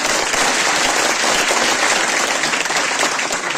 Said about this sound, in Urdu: زوردار تالیاں ہو جائیں